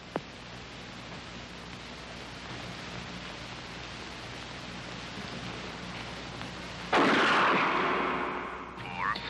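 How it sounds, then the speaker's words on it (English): A single loud gunshot cracks in a 1979 film about Project MKUltra, arriving late after a long stretch of hissy, noisy quiet and fading with a rumbling tail. "Shoot Bobby, Raymond. Through the forehead"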